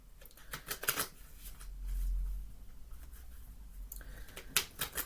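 A deck of Universal Celtic Tarot cards by Lo Scarabeo being shuffled by hand, a few quick soft riffles and flutters, close and quiet, with short pauses between bursts.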